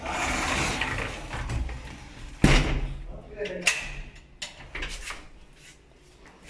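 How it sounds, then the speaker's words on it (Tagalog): A sliding bathroom door is shut with a sharp knock, followed by several smaller clicks and rattles of the latch being locked, set against a background of quiet talk and room noise. "Kailangan pala talaga nakalock yung pinto ng CR."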